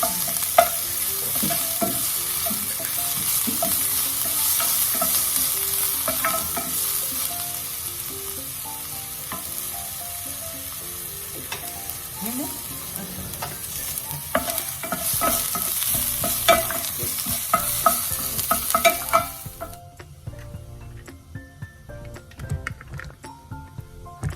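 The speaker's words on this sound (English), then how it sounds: "And we're going to stir this." An onion, ginger and garlic paste mixture for a watermelon rind curry sizzles in a hot pan while a spoon stirs it with repeated scraping and squishing. The steady frying hiss fades near the end.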